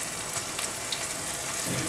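Ginger and garlic paste fries in a pan with onion, a soft, even hiss of sizzling oil with faint crackles, steady and fairly quiet, with no talking.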